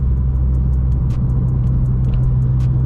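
Honda Prelude with a manual gearbox, its engine giving a loud, steady low rumble heard from inside while driving, with no voices.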